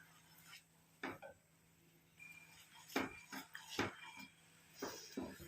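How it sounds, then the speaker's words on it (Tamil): A spoon stirs coffee powder and amla powder into a thick paste in a small bowl, making quiet, scattered scrapes and clinks against the container, several separate strokes at close range with soft pauses between. "இந்த காஃபி பவுடரோட நெல்லிக்காய் பொடியும் சேர்ந்து நல்லா வந்து மிக்ஸ் ஆகணும்"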